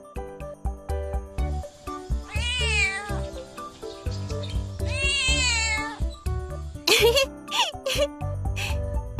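Cat meowing in the Sakura School Simulator mobile game, several drawn-out, wavering meows close and loud over a steady music backing, followed by quick sharp squeaky cries near the end.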